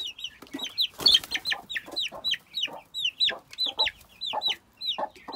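Month-old hens clucking in a steady run of short, rising calls, close by, with one louder squawk near the start and faint rustling underneath.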